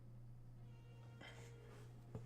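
A house cat meows a couple of short, faint cries over a steady low electrical hum in a quiet indoor room.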